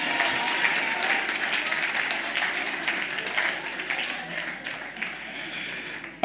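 An audience at a workshop presentation in Cameroon applauds, giving dense, sustained clapping from many hands that gradually thins toward the end.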